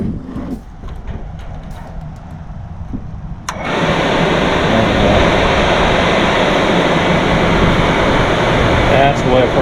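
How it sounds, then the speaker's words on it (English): Suburban RV furnace with a newly replaced fan motor, quiet at first, then the blower kicks on about a third of the way in and roars steadily, a loud, even broadband rush holding to the end. "That's the way a furnace should sound."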